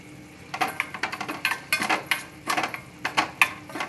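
Raisins fry in ghee in a small pan, with rapid metallic clinks and scrapes of a spoon stirring against the pan in quick bursts over a faint sizzle, close up.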